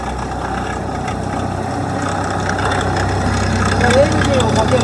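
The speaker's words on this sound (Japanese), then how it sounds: "そしてエンジンをかけます。" A combine harvester's diesel engine idles steadily with a low, even rumble throughout, continuous and fairly close, with water mixed into its diesel fuel.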